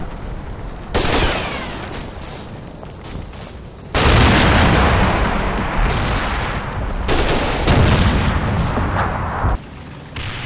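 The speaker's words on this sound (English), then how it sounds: "our tanks are now going to concentrate on shelling enemy-held buildings and possible enemy defensive positions" Tanks shelling enemy-held buildings in the wargame Combat Mission: Red Thunder, loud booming cannon blasts and explosions with rattling gunfire, several heavy impacts over a continuous din of battle.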